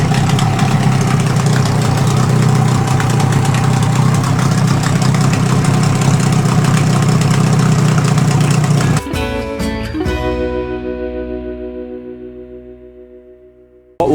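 A boat engine idles steadily at a marina while warming up, a loud, even mid-low rumble that cuts off abruptly partway through and leaves a fading ring.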